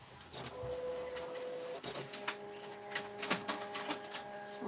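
A desktop printer runs through a job printing steampunk horse sticker designs, its motor whirring in a steady hum with clicks and short mechanical rattles growing busier toward the end, fairly quiet and close.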